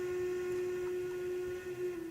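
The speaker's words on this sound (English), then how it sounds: "Oh, the Heisler's horn." A Heisler steam locomotive horn in Railroads Online sounds one steady, loud, sustained whistle tone, held unbroken for a couple of seconds with a slight waver near the end.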